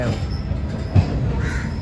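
Saurashtra Express 19016 from Porbandar to Mumbai arriving at Ahmedabad station, a steady rolling rumble of wagons with faint wheel squeal and a crow cawing, close and continuous.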